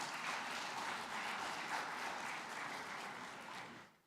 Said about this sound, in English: I think we need to clap for ourselves.